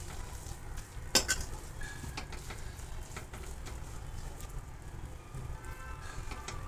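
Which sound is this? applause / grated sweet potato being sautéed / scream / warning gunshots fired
grated sweet potato being sautéed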